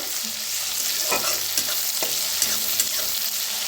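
Peanuts, green chillies and garlic roast in a pan for thecha under a loud, continuous close sizzle, with the quick irregular scrape and rattle of stirring throughout.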